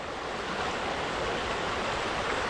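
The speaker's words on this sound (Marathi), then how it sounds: "हे बघा इकडून ओढा वाहतोय" A small stream flows near crab-catching grounds in Maval taluka at night, a steady, dense rush of water, close and continuous with no voices.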